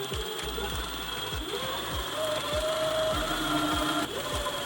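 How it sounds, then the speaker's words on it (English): A sewing machine sews a fabric edge of upcycled jeans, running steadily with a regular mechanical stitching rhythm, a constant hum and repeated thumps, close by. "now we'll take it over to the sewing machine and sew up the edge and serge it"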